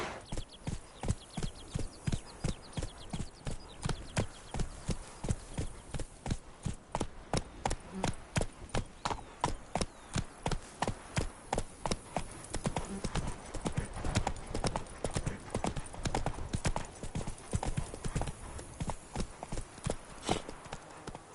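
A horse gallops in the video game The Witcher 3, its hoofbeats a steady, fast clip-clop. The rhythm continues evenly throughout at a moderate level, with no other sounds standing out.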